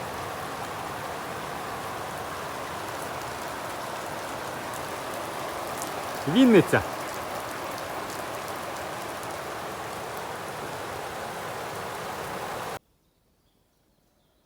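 Slushy, mushy hail falls in a steady, soft, continuous patter just after rain, with a brief chirp partway through before it cuts to silence.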